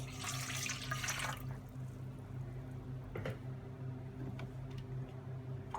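Warm water, about two cups, is poured into a bowl as the base for a peanut satay sauce: a full, splashing pour for the first second and a half, then only a low background hum.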